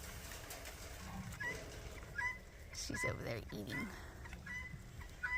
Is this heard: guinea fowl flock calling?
yes